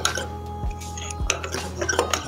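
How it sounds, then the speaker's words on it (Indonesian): A spoon stirs a Delizio Caffino chocomalt latte in a cup, making several close metallic clinks and scrapes against the sides with a steady low hum underneath, and no voices. "Sekarang kita aduk."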